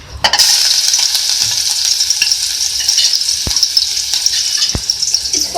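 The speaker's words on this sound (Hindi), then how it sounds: "सबसे पहले मैं ऑयल में डालूंगी अदरक लहसुन का पेस्ट।" Ginger garlic paste sizzles loudly in hot oil with a steady hiss, punctuated by a few clinks and scrapes of a spoon stirring in the pan, close up with no talk.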